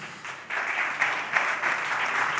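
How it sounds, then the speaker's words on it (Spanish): Audience applause at an architecture panel discussion on AI, a steady wash of many hands clapping across the whole stretch, moderately loud with no voices over it. "Un aplauso para ellos."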